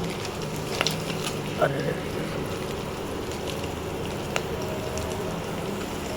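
Whole spices (khada masala) crackle and sizzle in hot oil for veg soybean biryani, a dense, steady frying hiss with small pops, and a voice briefly exclaims once.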